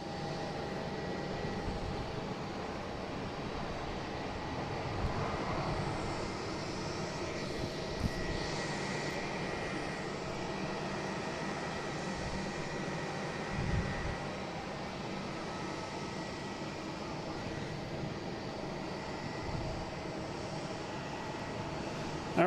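A JetBlue jet being pushed back at Boston Logan International Airport gives off a continuous engine whine and rumble from some distance, steady throughout with small bumps of ramp noise.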